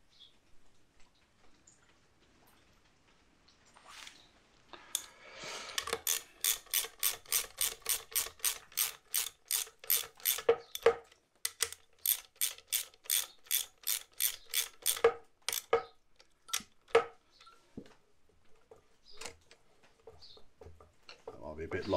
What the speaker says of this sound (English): Swiveling the swivel pin.